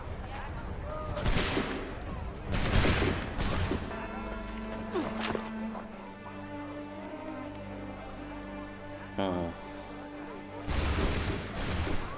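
Musket volleys in Assassin's Creed 3: loud bursts of massed gunfire at the start, middle and end, separated by quieter stretches with spoken dialogue and a musical sting.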